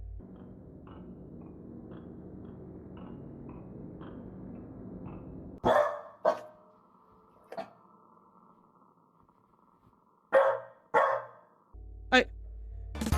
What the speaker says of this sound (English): Dog acquired!